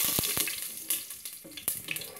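Cumin seeds spitting and sizzling in hot oil in a pan for an Indian sea bass curry, a steady frying hiss broken by a few sharp crackles and pops, close and fairly quiet, with no talking.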